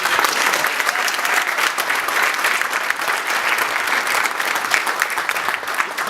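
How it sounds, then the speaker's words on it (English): A crowd at a fundraiser applauds steadily and loudly throughout, a dense wash of clapping with no pauses. "How about another big round of applause for the next county commissioner for the first year?"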